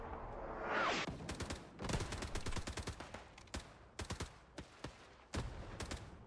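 Bursts of rapid gunfire and sharp artillery-like blasts in the World War II video game Hell Let Loose, with a rising whoosh followed by clustered, crackling volleys at varying distances.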